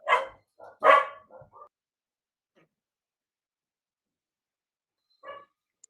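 Dogs bark in a few sharp, close bursts at the start, a pair of quick yaps right after, then silence until one more short bark near the end.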